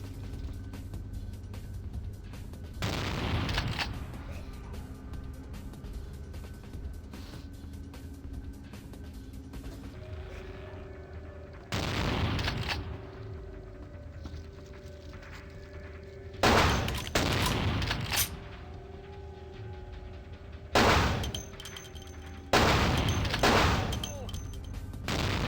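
Gunfire in Vampire the Masquerade: Bloodlines, several spaced loud shots or short volleys standing out over a low steady game ambience and hum.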